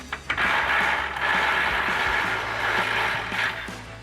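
Ratchet with an 18 mm socket loosening the mounting nuts of a rear bumper on a 2020s Chevrolet Silverado 2500 HD, a steady close mechanical clicking and creaking that runs without a break and has no talk over it.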